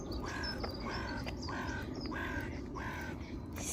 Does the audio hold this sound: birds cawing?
yes